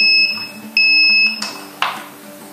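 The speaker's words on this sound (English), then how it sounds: "wait the end of the ESC music, okay, now ESC are calibrated." JJRC Pro P175 drone ESCs play their calibration tones: a series of clear, loud electronic beeps in steady pitched steps, each held tone starting sharply and holding briefly before the next, with no talking.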